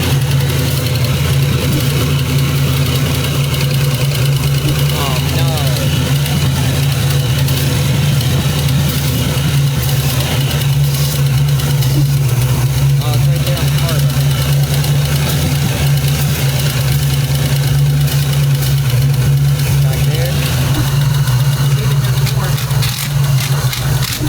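A car idles loudly close up on a newly fitted exhaust with a suspected exhaust leak, giving a steady low rumble with an uneven, slightly pulsing note that carries on without a break.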